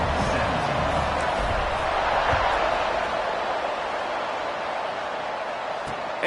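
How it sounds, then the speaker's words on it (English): A large stadium crowd roars steadily after a score at a Georgia State vs New Mexico State college football game, a dense, continuous wash of cheering that holds level for several seconds. "this crowd is buzzing after that last score"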